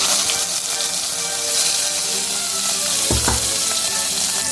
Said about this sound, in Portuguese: vou colocar azeite e selar algumas costelinhas por vez.